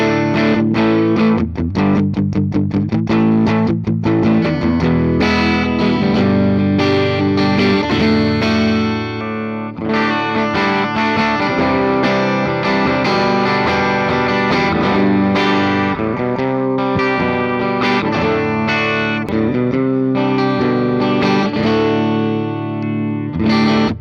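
Carvin DC400 electric guitar with its pickups set to the closest thing to a regular passive tone, played continuously in loud, sustained chords and riffs with a steady, full level and no talking.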